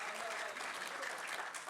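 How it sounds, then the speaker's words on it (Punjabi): Audience applause at an international Punjabi conference, a steady dense wash of clapping from a crowd, sustained and fairly even throughout with no pause. "ਬਹੁਤ ਸ਼ੁਕਰੀਆ ਜੀ, ਤਾਲੀਆਂ।"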